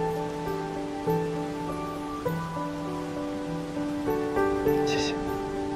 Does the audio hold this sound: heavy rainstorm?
yes